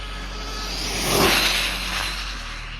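Small electric RC car, a Rlaarlo SBK10 Metal fitted with a 3650 motor, whooshing past at full throttle, a high whine swelling to a peak near the middle and then fading, heard alone without voices.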